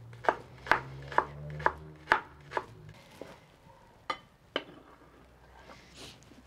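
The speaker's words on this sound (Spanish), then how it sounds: "ahora voy a picar la cebolla. Esta la partí a la mitad y ahora le voy a rebanar así." A knife slices a halved onion on a cutting board in a Mexican ranch kitchen, with a run of about seven crisp, evenly spaced chops followed by a pause and two more; close and clear, no voices.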